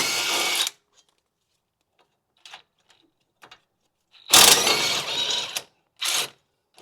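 An impact wrench with a swivel socket works the brake caliper bolts on a Fiat: short loud hammering bursts, one at the start and a longer one later, with faint clinks in between.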